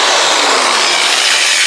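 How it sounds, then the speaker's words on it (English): A power drill grinds steadily into metal while boring a 12mm hole in a narrowboat, a loud continuous rasping whine held throughout without pause. "You wouldn't have thought drilling a 12mm hole"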